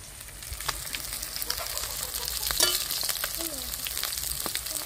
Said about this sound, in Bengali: একে একে সব মাছগুলো আমি ভেজে নেব।